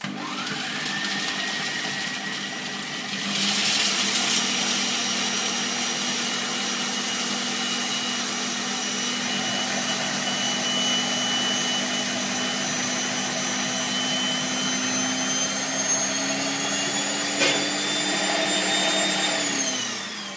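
A food processor whirls cashews with coconut oil into butter, a loud, steady motor whine running continuously for about twenty seconds with a slight pitch rise, then winding down at the end.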